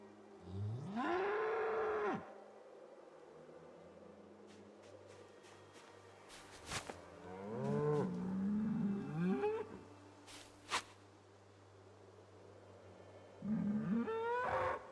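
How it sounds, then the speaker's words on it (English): Cattle mooing in the Project Zomboid survival game, several long, loud, low bellows spaced apart across the clip, with a steady low ambient hum beneath and no talking. "More Zomboid today with some very loud cows I see"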